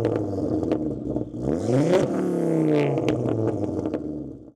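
A 2.5-litre turbocharged five-cylinder Ford Focus RS Mk2 engine with an aftermarket exhaust, about 400 hp, revs up loud and close, its pitch sweeping up and falling back in a continuous throaty roar.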